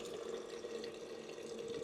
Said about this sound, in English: this pump I bought on Lazada, just fill up the water like that and then stick it in the fridge.